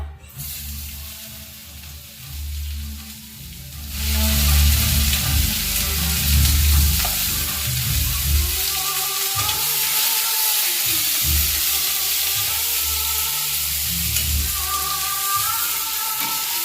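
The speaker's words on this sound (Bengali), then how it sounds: "এবারে প্রথমে আমি পেঁয়াজ দিয়ে দেব" Onion hits hot oil in a pan and bursts into a loud, steady sizzle that carries on close-up for many seconds, with no talking.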